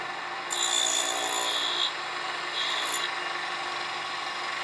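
A miniature table saw makes one pass through a small piece of wood for a 1:12 scale bench, a steady, thin whine that rises as the blade bites, dips, then rises again.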